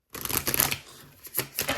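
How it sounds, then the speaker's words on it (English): A tarot card deck is shuffled in two quick riffling bursts of crisp paper flutter, separated by a short pause, close to the listener and without talk. "I'm gonna shuffle one more time."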